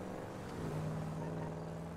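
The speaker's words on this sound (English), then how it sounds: "This fucking car trying to speed up for me" A car engine hums and rises as it speeds up on the road, a low steady drone that swells slightly midway, heard up close with no talk.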